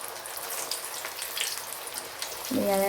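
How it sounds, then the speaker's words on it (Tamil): Paruppu vadai, lentil fritters, deep frying in hot oil, a steady soft sizzle that grows louder and bubblier near the end as fresh batter drops into the oil. "எல்லா வடையும் நம்ம பொறிச்சு எடுத்துக்கலாம்"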